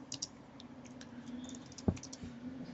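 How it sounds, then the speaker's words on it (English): Light typing on a computer keyboard, scattered soft key clicks at close range over a low steady hum, with one sharper tap near the end and no talking. "So let's type the topic."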